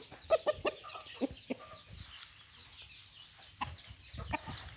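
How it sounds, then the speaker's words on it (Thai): Young roosters and hens cluck nearby on a farm where fighting cocks are kept, with scattered short calls over a quiet outdoor background. "ครับก็มีทั้งไก่หนุ่มไก่รุ่น"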